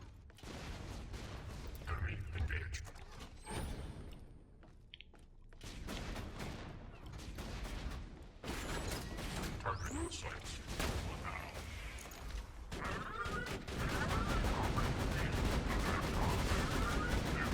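Assault rifle fire in the shooter game Borderlands 2, with bursts of rapid gunshots and booms that come and go over a steady game background, broken by short pauses.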